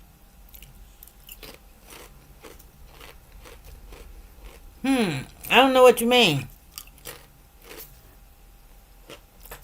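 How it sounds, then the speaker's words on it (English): Potato chips being chewed close to the mic, with a few bursts of crunchy bites standing out from quieter mouth sounds; a person speaks briefly. "Let me quit chewing these chips."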